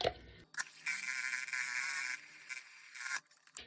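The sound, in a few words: mini whisk mixing glitter soap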